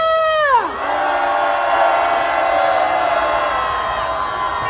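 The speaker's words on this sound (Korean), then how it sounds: "고검을 향해 함성 한번 질러보겠습니다. 함성 시작!" A crowd of protesters at a Korean candlelight rally shouts together in a loud, sustained roar that swells right after a falling electronic tone and holds steady to the end.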